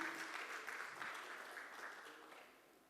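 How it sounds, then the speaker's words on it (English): Applause from an audience welcoming a guest at a futsal team announcement event in Mumbai, a steady wash of clapping that slowly fades over about three seconds, heard at a moderate distance. "Please welcome her with a huge round of applause."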